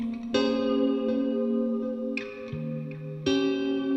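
An electric guitar drenched in heavy reverb rings out in three sustained, shimmering chords. Each attack blooms into a long washy tail that overlaps the next, alone and fairly loud.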